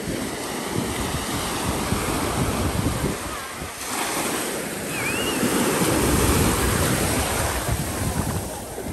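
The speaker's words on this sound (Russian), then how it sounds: "Шум океана." Steady Indian Ocean surf rolling and washing continuously on a beach at Unawatuna, Sri Lanka, a broad roaring wash with some wind buffeting the microphone, no voices.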